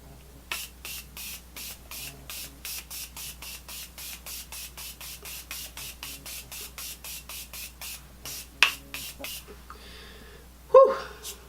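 A makeup setting spray from a 2.8 fluid ounce bottle is misted in a long run of quick, evenly spaced pumps, close and crisp, followed by a couple of breathy exhales.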